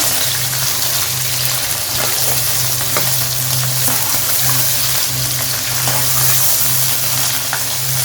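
Chicken liver (kaleji), about a kilogram, fries in a pan with a steady, loud sizzle throughout and occasional scraping stirs, with no talking.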